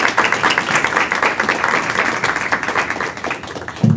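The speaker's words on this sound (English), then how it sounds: "Let's give a round of applause." An audience at a youth graduation recognition event gives a round of applause, a steady, dense wash of many hands clapping that stays fairly loud throughout and fades slightly near the end.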